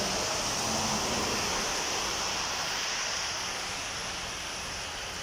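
Rain falls steadily in Unaizah, Qassim, Saudi Arabia, as a continuous, even broadband wash with no distinct drops standing out. No one is heard speaking.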